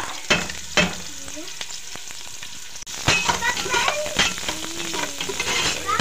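Sliced ginger frying in a pan for a beef pinapaitan dish, with a steady sizzle broken by sharp stirring clatters and a brief dropout midway.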